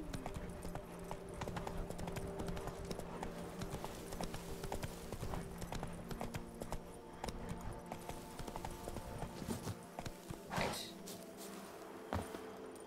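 Horse hooves clip-clop steadily at a gallop as Roach, a horse in The Witcher 3 video game, runs on, a continuous rhythmic pounding with game ambience underneath.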